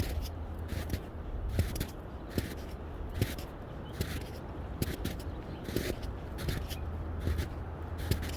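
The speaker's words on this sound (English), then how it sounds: "I'm hearing the ground crunch" Steady crunching footsteps on snow, regular paced strides with crisp crackles over a constant outdoor hiss, fairly close.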